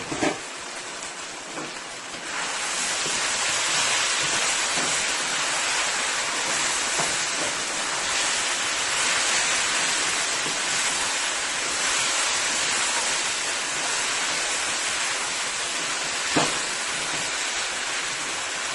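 Potatoes frying in a pan for a mackerel sardine and potato stew, giving a steady, dense sizzle that holds evenly for a long stretch, loud and close, with a few faint clicks.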